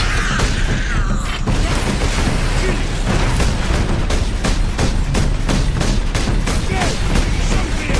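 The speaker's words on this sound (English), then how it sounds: "So if I use the bolt gun like this and just shoot a single round, it almost works as a sniper rifle" Bolt gun fire in the Warhammer 40K Space Marine video game, with loud repeated gunshots and booming impacts thudding over dense battle noise and effects at a rapid, fairly regular pace throughout.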